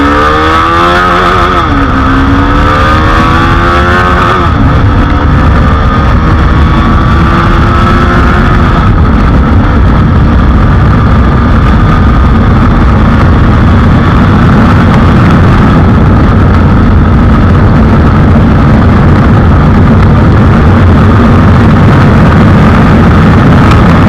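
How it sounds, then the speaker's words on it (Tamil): A TVS Apache RR 310 motorcycle with Michelin Road 5 tyres accelerates hard toward top speed, the engine rising through gears with quick pitch climbs, then settling into a loud, sustained high-speed drone mixed with heavy wind roar. "இப்போ இந்த பைக்கோடைய டாப் ஸ்பீட் பார்த்துடலாம்."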